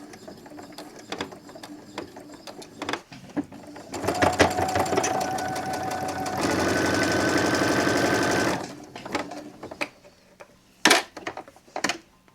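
A sewing machine back stitching a quilted keychain wallet: bursts of rapid mechanical stitching with clicks and ratcheting between them, building to a steady whirring run before stopping, ending with a few loud clacks.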